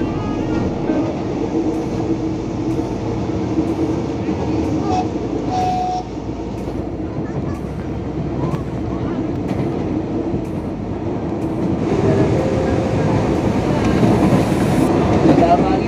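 A KRL commuter train between Yogyakarta and Solo rumbles steadily along the tracks, with a continuous low roar and rattling that swells louder toward the end as it approaches Prambanan station.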